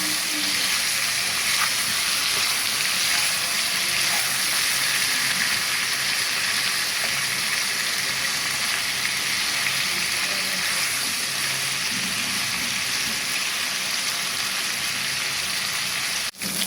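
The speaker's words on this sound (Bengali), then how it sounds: "এটাকে এভাবে করে একটু হালকা করে ভেজে নেবো।" Broiler chicken pieces fry lightly in oil with a dense, constant sizzling hiss that stays loud and even throughout, ending with a faint click.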